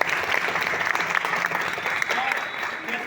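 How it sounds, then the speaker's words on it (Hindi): A crowd at a business training event breaks into loud, sustained applause for mentors and uplines, dense clapping filling the whole moment without pause. "मैं चाहूंगा उन सभी मेंटर्स अपलाइन के लिए बार जोरदार ताली होगी।"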